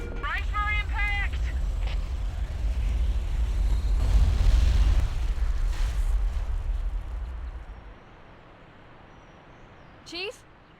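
A heavy crash impact in a Halo game rumbles low and long for several seconds before fading away, with brief electronic chirps near the start and a short sharp sweep near the end.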